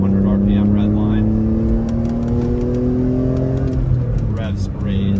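A BMW E46 M3 Cabriolet with its S54 inline-six revs while driving, engine note climbing steadily in pitch under load with rising harmonics, then easing off; loud and close, with brief wind and road noise mixed in.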